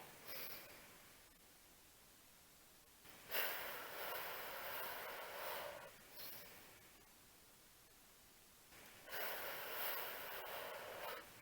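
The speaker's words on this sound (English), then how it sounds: "4 counts in breath, 4 counts out breath" Slow, even breathing at four counts in and four counts out, with long airy breaths through the nose rising and falling close by, each breath lasting a few seconds and no talking.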